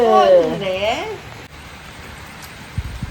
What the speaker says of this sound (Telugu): చూడండి ఎంత వర్షం అయితే ఫుల్గా ఉందో